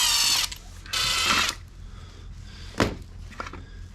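Tiny micro screws being worked out of the fender of a Varla Eagle One electric scooter, with two bursts of ratcheting tool clicks followed by a couple of sharp, close mechanical taps.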